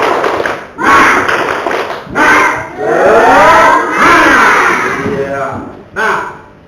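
A school class chants and claps in rhythm during a classroom cheer, loud and close, with several bursts of voices and thumping claps over about seven seconds.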